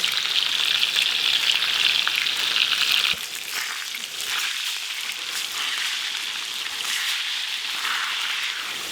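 Potato rounds for fondant potatoes fry in a pan with a continuous crackling sizzle, brighter for the first three seconds and then settling into a softer, steady frying patter.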